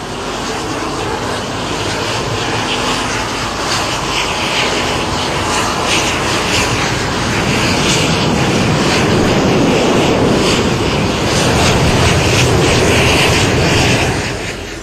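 An Indian Air Force aircraft at the airport in Chennai roars with a loud, sustained engine drone that swells gradually, peaks near the end and then eases slightly, with wind buffeting the microphone.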